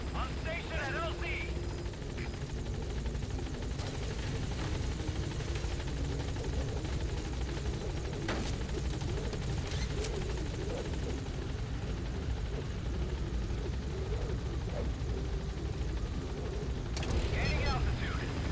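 Helicopter hovering at a landing zone in Metal Gear Solid V: The Phantom Pain, a loud steady rotor roar that fills the whole clip, with radio chatter and voices talking over it.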